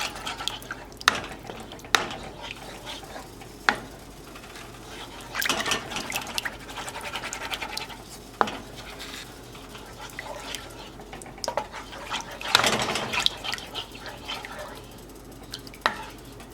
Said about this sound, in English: Stir it as good as you can.